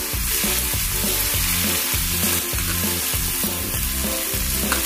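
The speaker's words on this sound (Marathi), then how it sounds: "आता आपण बारीक चिरून घेतलाय कांदा तो घालून घेणार आहोत।" Finely chopped onion hits hot oil seasoned with cumin and asafoetida in a pan, giving a loud, steady, close sizzle and crackle that lasts throughout, with no talking.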